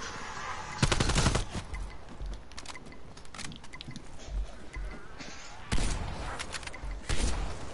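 Automatic gunfire rings out in a video game as a player hip-fires while riding a snowmobile, with a few sharp bursts of rapid shots over engine and game background noise.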